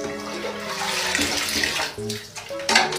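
Water poured from a gayung scoop during an Indonesian-style bath splashes continuously at close range, with a few heavier sloshing pours toward the end; no voices.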